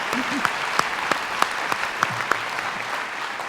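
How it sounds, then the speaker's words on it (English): Applause from a school staff audience at a district all-staff kickoff event, a moderate steady patter of many hands with a few sharper claps standing out, heard from a distance without talk. "I think applause are in order"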